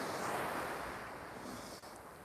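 High-tide surf washing in at Hua Hin beach in Thailand, with someone wading through the water; a steady, broad wash of waves and wind noise continues without a break.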